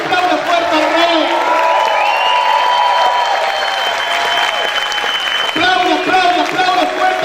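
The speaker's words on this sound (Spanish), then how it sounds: "Grita y aplaude fuerte al Rey" Church congregation applauding and cheering loudly throughout, a dense continuous wash of clapping with shouts and voices mixed in, close and full.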